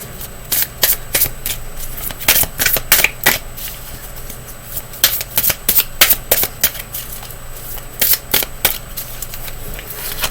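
A deck of universe advice cards is shuffled close by in quick bursts of crisp flapping riffles, separated by short pauses, over a quiet background.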